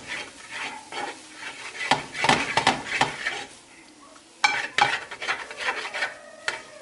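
Lamb brain roast stirred in a heavy uruli pot, with repeated scraping and clinking strokes of a spoon against the metal, fairly close and uneven in rhythm, over a faint sizzle.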